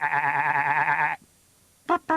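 A human voice imitates a sheep's bleat with one long wavering 'baa', then after a short pause gives two quick, clipped bleats close to the mic.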